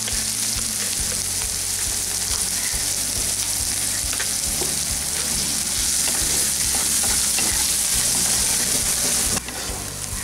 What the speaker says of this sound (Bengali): এখন এগুলোকে সব একসাথে ভেজে নিচ্ছি।